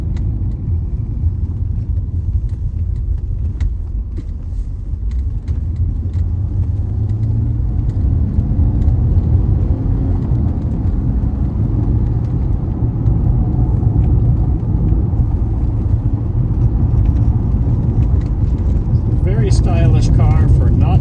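A 1991 Mercedes-Benz 300 SL Roadster on the move, its engine and road noise a loud, steady low rumble heard from inside the car over a long stretch, with a voice talking at times.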